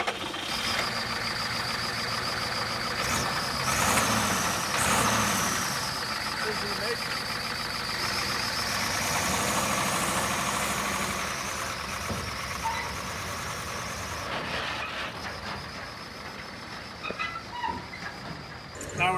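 A Ford 6.9 liter diesel truck engine, already running hot with oil getting into the coolant, cranks and idles with a steady loud clattering drone that fluctuates near the end, with speech over it.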